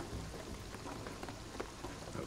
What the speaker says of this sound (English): What I'm telling you is the rain is gonna flood it.